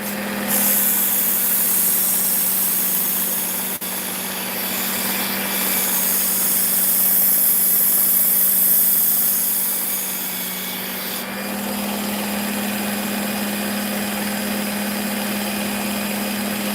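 Steady grinding rub of a Work Sharp powered belt sharpener working a pocket knife blade, a continuous motor hum with passes of the steel against the belt, fairly close and loud, no talk.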